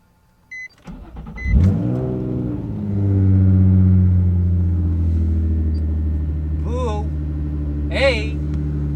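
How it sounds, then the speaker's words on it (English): Nissan 350Z engine, freshly filled with thick 5w40 oil, starts with a short beep and cranking, then idles and revs up smoothly a couple of times; brief voices cut in near the end. "The car revs so happy."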